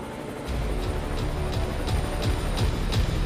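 Cartoon helicopter flying over a village, its rotor beating with a steady rhythmic chop under a constant engine drone, moderately loud and continuous, with no speech.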